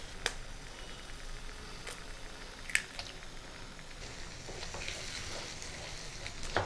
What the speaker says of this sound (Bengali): পেঁয়াজ, আদা, রসুন, টমেটো, কাঁচা লঙ্কা বেশ করে একটু ভেজে নেব।